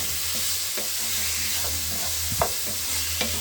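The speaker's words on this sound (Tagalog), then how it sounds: "At ito na yung chicken ang ating hinahalo-halo natin" Chicken being stirred in a frying pan while cooking pancit, a steady sizzle of oil with scattered scrapes and clacks of the utensil, close by and without talk.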